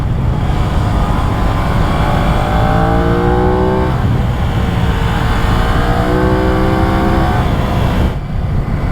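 An Aprilia RS660 motorcycle engine drones loudly and steadily during a test ride. Its pitch rises and falls in smooth sweeps as the rider accelerates and shifts, with constant wind rush and no talking, before it drops off briefly at the end.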